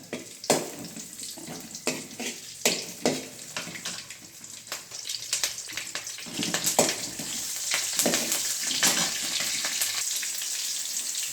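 Green chilies and curry leaves frying in hot oil that already holds crackled mustard seeds and fennel, producing a bright crackling sizzle with sharp pops early on, settling into a denser steady fry, close up with no talking.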